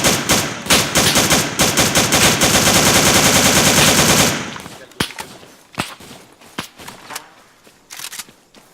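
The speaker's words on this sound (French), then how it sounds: "Ça tire à droite, ça tire à droite." Machine gun fire in a tactical shooter game rattles in a loud, sustained rapid burst for about four seconds, then gives way to scattered single shots at varying distance.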